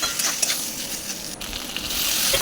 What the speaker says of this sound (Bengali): আর একটা কড়াইতে আমি জিরে ফোড়ন দিয়ে সজনেটা আলুগুলোকে ভালো করে নুন হলুদ দিয়ে একটু ভেজে নেব